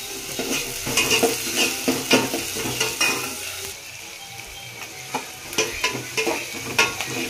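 Onions with chopped carrots, beans and radish frying in a pan for vegetable sambar, a steady sizzle broken by repeated scraping stirs of a utensil against the metal, close and clear with no talk.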